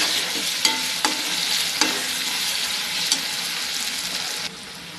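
Onions with salt frying in a pan and stirred for upma, a steady close sizzle punctuated by a handful of sharp spatula taps and scrapes, dropping suddenly quieter near the end.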